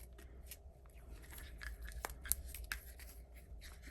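Scissors cutting through plastic packaging. Several quiet crisp snips and crinkles sound close by, with one sharper cut around the middle and faint plastic rustling between them.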